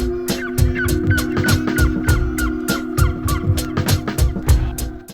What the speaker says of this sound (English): It's a very specific bird call.